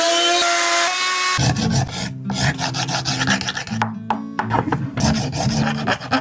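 Loud, continuous rasping and rubbing of an abrasive polishing the finish of a 2005 Recording King ROS 606 acoustic guitar, rising and falling in steady strokes with brief pauses, no voices.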